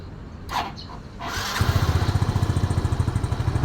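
A 2014 Yamaha Fino Fi scooter engine starts after a short whir and rough attempts, then settles into a steady, close, loud idle with a quick regular putter.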